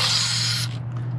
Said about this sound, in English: Don't be shy with this brake cleaner, especially on the B